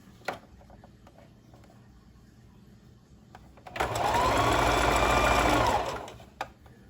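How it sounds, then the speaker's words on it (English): A sewing machine runs a zigzag stitch through fabric for a T-shirt top, a steady close whir lasting about two seconds after a few faint clicks, then stopping. "I'm gonna place it up underneath my needle, and I'm gonna start on zigzag"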